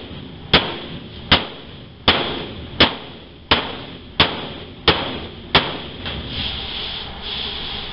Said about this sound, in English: now I'm having to sit here and hammer this back down and then lock this in place